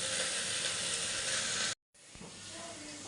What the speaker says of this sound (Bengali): চলো এখন নুন টুন দিয়ে একটু ভাজা হোক